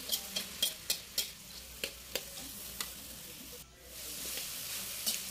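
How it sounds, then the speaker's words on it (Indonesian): Previously fried tempeh is stir-fried in a pan until crisp, a steady sizzle broken by a run of sharp scraping and clinking strokes from the spatula, close and clear without talk. "Kita goreng sampai kadar airnya menyusut ya."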